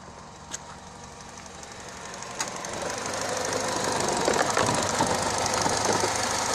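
A Peugeot 207 VTi 120 petrol engine idling smoothly with a steady, even mechanical hum and light ticking, gradually growing a little louder, with a couple of brief clicks.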